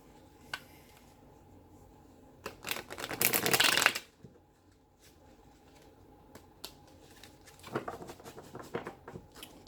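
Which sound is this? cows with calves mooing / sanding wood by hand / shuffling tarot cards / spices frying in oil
shuffling tarot cards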